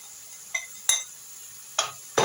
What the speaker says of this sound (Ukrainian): І знову гарненько все це розмішую і обсмажую далі.